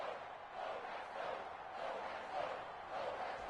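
Steady roar of a sold-out stadium crowd in Madden 21 at Foxborough before a Patriots versus Packers kickoff, a continuous moderate wash of massed voices with no distinct shouts.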